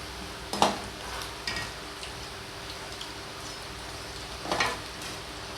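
Egg 65 pieces frying in hot oil, a soft steady sizzle with two brief clatters of pieces or a utensil in the pan, quiet and close with no speech.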